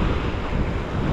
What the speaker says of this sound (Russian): Ветер свеженький.